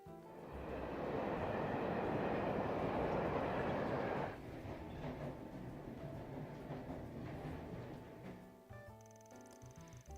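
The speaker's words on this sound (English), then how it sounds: "After that, Van and Ren rode the subway across the capital, gathering hints as they went along." A subway train in the video game Trails Beyond the Horizon rumbles loudly for several seconds, then settles into a quieter steady interior drone with faint clicks and a brief tonal chime near the end.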